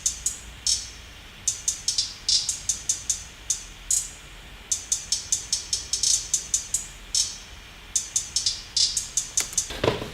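A programmed trap beat hi-hat pattern made in Logic Pro X ticks crisply in uneven rolls and bursts of rapid hits with short pauses, alone over a faint low background.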